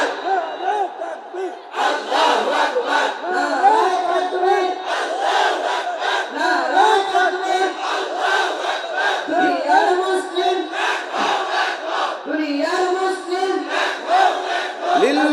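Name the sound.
crowd chanting a slogan in unison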